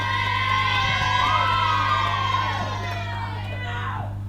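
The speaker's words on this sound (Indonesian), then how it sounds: "Sekali lagi beri aplaus untuk teman kalian." Students at a school class-meeting speech contest cheer and shout for a classmate, a dense, excited crowd of young voices that swells, then slowly settles over a steady low hum.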